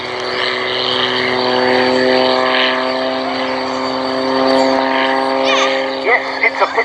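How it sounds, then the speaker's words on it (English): A highly modified Pitts S2S biplane performs an aerobatic display at an airshow, its propeller engine droning loud and steady throughout with a rising, shifting pitch as it manoeuvres, under a commentator's voice. "This is the Pitts S2S muscle biplane."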